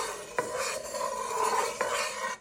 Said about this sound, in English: And with a wooden spoon, you want to stir that around.